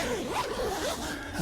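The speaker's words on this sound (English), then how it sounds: "Zip side to side." Zipper on the door of a 3FUL Taihang Max tent, pulled side to side in a close, continuous rasping run lasting over a second, heard alone.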